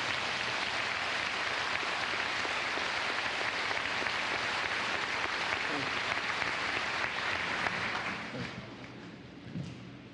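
Graduation audience applauding at a 2008 high school commencement in Ste. Genevieve, Missouri, honoring board members; dense sustained clapping fills the hall, tapering slightly near the end.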